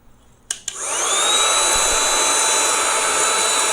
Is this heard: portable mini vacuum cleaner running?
yes